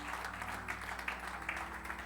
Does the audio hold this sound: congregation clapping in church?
yes